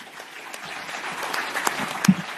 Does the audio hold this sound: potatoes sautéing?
no